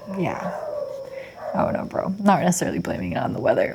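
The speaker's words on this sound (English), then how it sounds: "sorry about the dogs" Dogs bark and yelp in the background of a casual indoor monologue, with sharp bursts scattered under steady close talking from a man.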